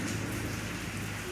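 Steady rain falling outdoors at a home with potted plants, a continuous dense patter of drops on surfaces, close and even throughout with no voices.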